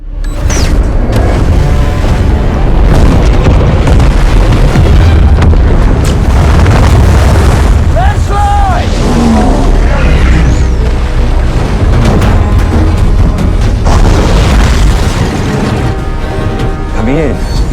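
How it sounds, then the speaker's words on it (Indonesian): A bomb detonates underwater in a movie action scene, a loud, heavy, rumbling boom that roars and churns for many seconds, with a voice speaking over parts of it. "Tapi gara-gara kehadiran Jonas CS, dia pun berniat meledakkan bom sebelum waktunya."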